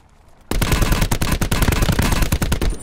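Gunfire in Call of Duty Blackout, a sudden close burst of rapid automatic shots hammering away for a couple of seconds after a quiet start.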